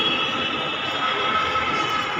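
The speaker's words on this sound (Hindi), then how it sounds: "लक्ष्मी नगर मेट्रो का सीन ये है।" A Delhi metro train at Laxmi Nagar station produces a steady, loud rumbling roar with a constant mechanical whine, continuous throughout with no break.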